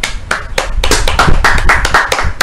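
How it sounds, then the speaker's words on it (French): A small audience clapping for a few seconds, loud and close, with irregular overlapping claps and no voices. "applaudissons pour elle."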